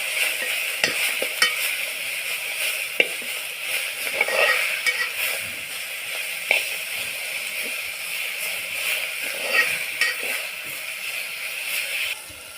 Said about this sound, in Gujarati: હવે નાખીએ હળદર હલાવી નાખીએ હવે